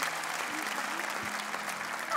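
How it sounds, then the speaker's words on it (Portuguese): Audience applause fills the Coliseu concert hall at Got Talent Portugal 2021, a televised talent show, a steady, dense wash of clapping that runs evenly throughout without a break. "por esta gente toda aqui a vibrar, a bater palmas"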